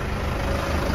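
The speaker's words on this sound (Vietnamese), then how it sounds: "em để cái tiếng máy nổ máy cho nghe quý khách hàng nghe cái tiếng máy" A 2022 Isuzu QKR 270 square-cab light truck runs with its diesel engine idling, a steady, loud low rumble filling the space close by without voices.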